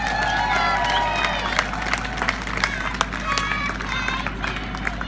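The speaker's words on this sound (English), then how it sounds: "So, big round of applause for them" An audience at an outdoor cinema in a town square applauds for Saffron Screen's 10th birthday, steady clapping with some cheering under a speaker's amplified voice.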